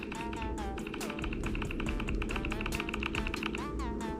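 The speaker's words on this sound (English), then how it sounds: "I'm gonna pick retro, so it sounds like an actual keyboard, like a physical keyboard." Quick clicky retro-style keyboard touch sounds on a Samsung Galaxy phone in a rapid irregular stream, typewriter-like, with a voice talking over them.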